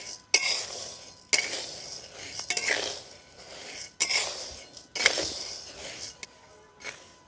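A metal spatula scrapes and clinks against a kadai while cerelac ingredients are stirred and roasted, sharp rhythmic scraping strokes roughly every second, close and fairly loud, with no talk.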